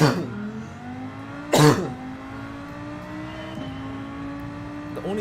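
Lamborghini engine in Gran Turismo 7 racing, a steady rising whine as the car accelerates through gears, with a brief loud burst early on and a sustained drone settling underneath.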